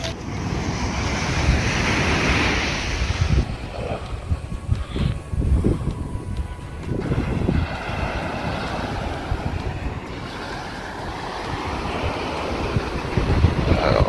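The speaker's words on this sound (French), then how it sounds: "Alors, on a des belles vagues." Sea waves break and wash onto the shore at Île d'Oléron in surging rushes, with heavy wind buffeting the microphone and loud gusts rising and falling, and no voices.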